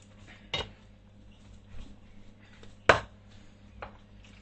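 Food stirred in a pot on the stove, with a few sparse, close metallic clinks and scrapes of a utensil against the pot over a quiet background.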